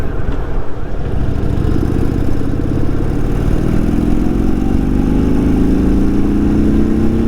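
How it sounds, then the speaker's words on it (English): An Indian Super Chief motorcycle engine at full throttle in third gear, its loud, steady roar rising smoothly in pitch as it accelerates, up close for the whole stretch with no speech. "This is full throttle in third gear."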